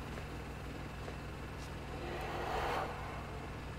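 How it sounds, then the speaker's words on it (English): A rail car rolling in The Vanishing of Ethan Carter, a low steady mechanical rumble with a faint swelling grind near the end, quiet and with no talk. "Move the rail car up here."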